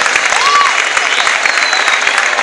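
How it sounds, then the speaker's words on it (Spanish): Applause from the audience at a carnival group parade and awards night, steady close clapping with scattered louder claps, plus a faint whistle rising and falling above it. "queremos un fuerte aplauso para recordarle en esta noche"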